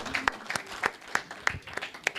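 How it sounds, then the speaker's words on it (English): Sparse, scattered claps from a conference audience thanking panel presenters at a Greek Orthodox Archdiocese centennial event, individual hand claps spaced irregularly at moderate distance with a faint room murmur beneath. "a big round of applause to our presenters."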